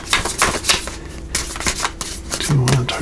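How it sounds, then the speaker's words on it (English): Tarot cards being shuffled up close in a series of quick, papery riffling bursts, with a voice faintly audible in the background. "Let's give this a little shuffle here."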